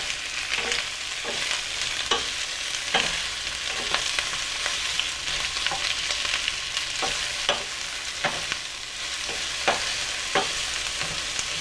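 Onion rings frying in a pan for pork, onion and cheese enchiladas, with a steady loud sizzle and repeated sharp clicks and scrapes of stirring throughout.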